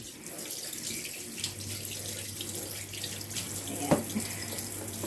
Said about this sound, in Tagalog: Pahiin po muna natin yung ating buhok para maano yung conditioner.